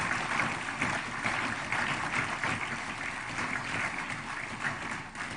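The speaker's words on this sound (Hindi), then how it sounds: "हमारी तालियों की गड़गड़ाहट उन तक पहुंचती रहे" Audience applause at a formal ceremony attended by India's President Droupadi Murmu, a continuous soft wash of many hands clapping, fairly distant and even throughout with no voices.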